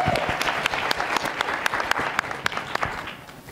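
Audience applause from a panel session at a food and ocean conference, dense steady clapping with scattered sharper claps, fairly close and sustained before tapering slightly.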